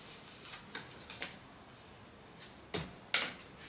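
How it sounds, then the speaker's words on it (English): A heat press drawer being pushed shut: a few light clicks and taps, then two sharper closing knocks near the end, fairly quiet with no talking. "Put it back in the drawer."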